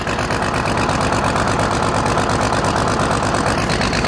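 An engine with no muffler idles cold, loud and raw, its rapid exhaust pulses throbbing with an uneven, loping rhythm, close by and steady throughout.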